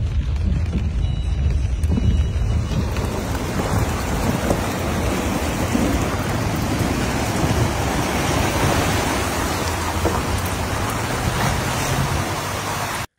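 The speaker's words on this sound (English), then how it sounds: "a severe thunderstorm brought heavy downpours" Heavy rain pours down during a severe thunderstorm in Bradford, a dense, steady roar of water that stays loud and continuous for the whole stretch, with no voices.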